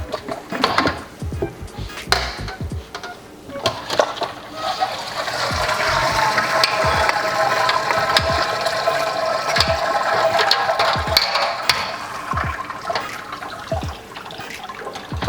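Wort pours and trickles steadily from a lifted grain basket during a winter ale brew, a continuous splashing stream with scattered clanks and knocks around it.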